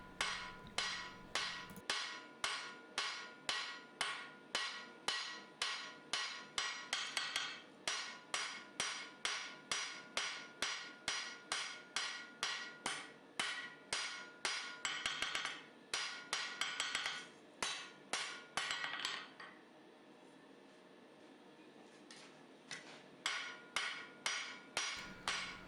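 A hammer forging a hidden tang knife blade on an anvil, drawing the edge down with loud, evenly paced ringing blows, a burst of faster strikes, then quieter scattered taps.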